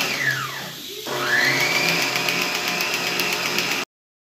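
Electric stand mixer whirring steadily in a home kitchen while cheesecake batter is made, its motor dipping briefly then revving back up to a continuous hum, close and alone without talk.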